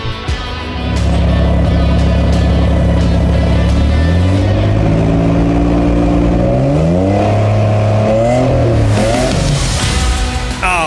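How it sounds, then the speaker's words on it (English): A car's internal combustion engine revving: it idles low, then climbs through several loud rising and falling revs, heard close and alone. "You can send those car sounds into my show"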